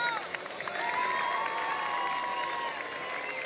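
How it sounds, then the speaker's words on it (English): A large outdoor crowd cheers and whistles at the Red Bull Joyride 2018 mountain bike slopestyle event in Whistler, Canada, a steady roar of distant voices and shouts filling the air. "The crowd is going wild out there."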